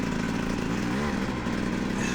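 A 2024 Beta 300RR Race Edition two-stroke dirt bike engine drones loudly and steadily close by, its pitch briefly rising and falling once as the throttle is worked.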